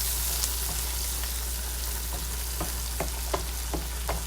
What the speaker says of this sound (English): Just get that garlic butter all sauteed in there